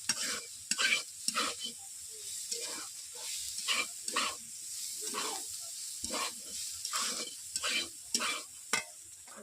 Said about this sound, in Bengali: এরপর লঙ্কা গুঁড়ো দিয়ে আমি এইভাবে নেড়ে নিচ্ছি।